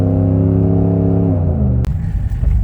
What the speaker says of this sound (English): we're gonna let the old Hemi sing while we drag it up there